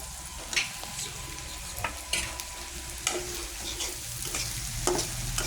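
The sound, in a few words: stirring curry with garam masala paste in a pan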